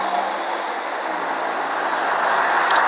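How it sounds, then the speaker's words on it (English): Street traffic passing near a bus stop, a steady rushing roar of vehicles that swells slightly toward the end, with no talk over it. "I'm out in the traffic, if you can hear that,"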